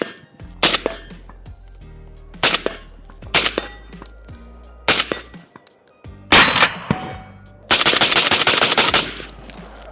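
An AK-pattern rifle fires through a full magazine in loud bursts and single shots: several short volleys with gaps between, then a long sustained string of rapid automatic fire near the end, with no talk.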